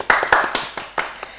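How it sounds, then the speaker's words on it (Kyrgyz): A studio audience at a TV game show claps in a thin scatter of separate sharp hand claps, close and uneven in rhythm rather than a full roar. "Кол чабуулар."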